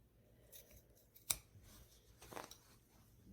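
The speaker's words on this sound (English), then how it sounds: "So I'm going to trim this seam allowance down just a little bit." Fabric scissors trim a seam allowance on a kimono jacket being sewn: one crisp, close snip, then a softer second cut, faint and isolated in a quiet room with no talking.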